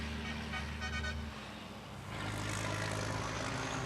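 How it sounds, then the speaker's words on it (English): A racing truck at the 2021 FIA European Truck Racing Championship race at Most sounds a surprisingly high-pitched horn in short bursts near the start, followed by a loud swell of engine roar. "how high-pitched that horn sounds compared to how beefy you'd expect it to be with these trucks"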